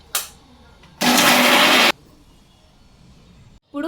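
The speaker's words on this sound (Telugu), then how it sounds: "ఇప్పుడైతే మిక్సీకి వేసుకున్నాము." A mixer grinder blends amla with water for juice in one short, loud burst of whirring lasting about a second, with quiet moments and a faint clink before and after.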